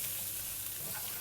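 Szechuan peppercorns and chili fry in oil in a pot, giving a steady, even sizzle with faint crackles, close and unbroken for the whole stretch.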